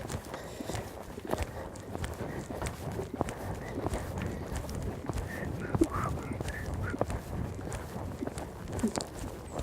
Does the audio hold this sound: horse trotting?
yes